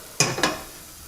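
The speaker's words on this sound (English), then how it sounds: "We're going to saute them in a few tablespoons of butter" Butter sizzles in a pan as sliced white mushrooms are stirred in to sauté, two quick bursts of hiss from the pan, close and fairly loud, fading into a soft simmer.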